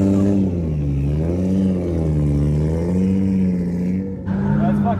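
Turbocharged BMW E36 drift car engine revving and accelerating up close, a loud droning tone that rises and dips through the gears with a brief drop near the end, voices talking over it.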